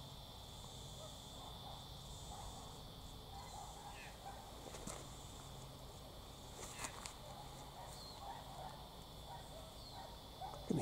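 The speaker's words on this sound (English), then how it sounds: "I can hear cicadas in the distance." Distant cicadas drone steadily in the background of a quiet outdoor setting where a lizard basks, a faint continuous high buzz with occasional soft rustles and clicks nearby.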